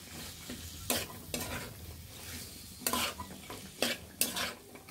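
Bean seed curry stir-fried in a pan, a low sizzle broken by a handful of sharp scraping strokes of a spatula at uneven intervals, close and moderately quiet.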